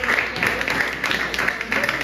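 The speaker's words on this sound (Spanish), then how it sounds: "Un aplauso para hermano Pedro." Brief scattered clapping from a small congregation at a church teaching session, moderate and steady, with a faint voice underneath.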